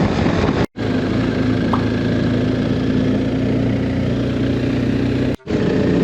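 Several motorcycle engines running together at a Boss Ironman 2024 ride event, a loud steady droning idle with a low hum, heard close with two brief dropouts.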